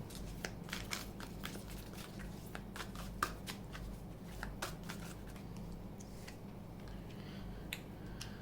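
Tarot cards are shuffled and drawn by hand in a quiet room, giving soft, steady riffling with scattered crisp card snaps and flicks over several seconds, no talking.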